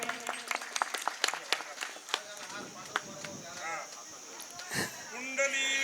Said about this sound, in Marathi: जोरदार टाळ्या वाजवा सर्वांनी